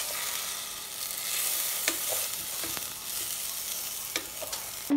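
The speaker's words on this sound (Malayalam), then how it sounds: "അഞ്ച് മിനിറ്റ് ലോ ഫ്ലെയിം വെച്ചിട്ട് ബട്ടറിൽ ഈ റൈസ് ഒന്ന് ഫ്രൈ ആക്കി എടുക്കാം." Rice frying in butter over a low flame gives a steady, close sizzle, with faint scrapes and stirring clicks scattered through it. It is heard alone, with no voices.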